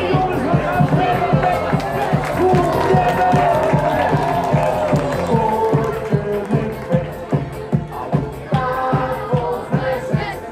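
An audience at the Hardenberg Avondvierdaagse and Klepperstadtocht claps and cheers loudly over rhythmic music, the applause dense and continuous with crowd babble throughout.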